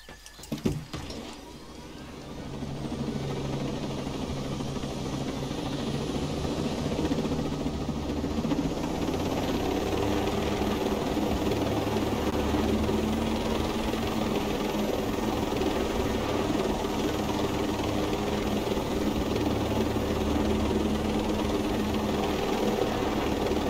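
A helicopter in the video game Ghost Recon Breakpoint drones steadily after a brief thump at the start, its continuous engine and rotor hum holding loud and even throughout with no talking.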